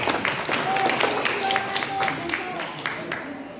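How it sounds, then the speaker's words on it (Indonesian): Scattered clapping from a group at an HKBP church gathering rattles along under a speaking voice, steady and moderately distant throughout. "Tepuk tangan untuk cek."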